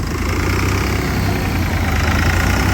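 A modified tractor built for a tochan pulling contest runs with a loud, close, steady engine drone and throbbing low rumble that holds constant throughout.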